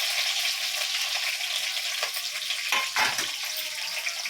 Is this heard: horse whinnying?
no